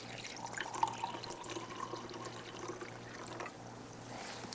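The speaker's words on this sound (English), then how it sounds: "I'm now going to take some water and I'm going to pour it in." Water is poured into a lab beaker holding wires, a faint, uneven trickle with light drips over a low steady hum.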